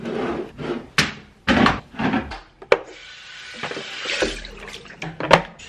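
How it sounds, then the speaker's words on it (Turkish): A drawer is pulled out of a machine, giving a run of knocking plastic thumps and clatters, then a scraping slide and a few more bumps, close by and fairly loud. "Şimdi şu makinenin bitiş işlemlerini yapayım. Çekmecesini falan çıkartacağım."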